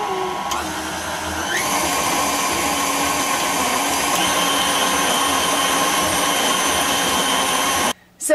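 A kitchen blender whirs steadily as it purées beans into a smooth paste for a flourless, sugar-free chocolate cake, a loud continuous motor drone that shifts pitch early on and cuts off abruptly near the end.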